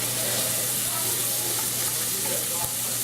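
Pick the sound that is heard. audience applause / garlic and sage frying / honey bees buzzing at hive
garlic and sage frying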